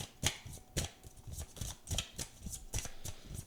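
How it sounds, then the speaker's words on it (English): Tarot cards being shuffled close up, a series of quick riffling and sliding bursts in an irregular rhythm, fairly quiet with no talking. "And now we are going to shuffle the cards."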